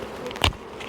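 Honeybees around a small queen-rearing nucleus hive, a close buzz with one brief loud surge as a bee passes near, over a steady soft background hum.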